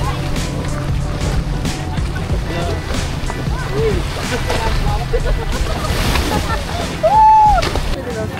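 Surf washes steadily along Bulabog Beach on Boracay, made choppy by the habagat monsoon, where banana boat rides and other water activities run, with a continuous roar of water and boats under people talking and a brief whistling tone near the end.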